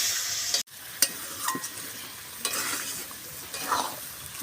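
Chicken sautéing with onion, ginger and garlic paste gives a steady low sizzle, broken by a few sharp scrapes and stirring knocks of a spatula against the pan, close by with no voices.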